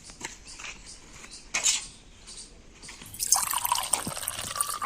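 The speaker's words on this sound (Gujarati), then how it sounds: "થોડું પાણી નાખો એમાં" Water being poured into a cement mix makes soft splashing and trickling that swells into a louder, fuller gush toward the end.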